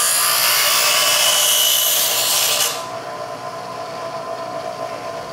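Bench grinder shaping thin feeler gauge steel into a lock pick, a bright high-pitched grinding hiss for nearly three seconds that then stops, leaving the motor's softer whir running alone.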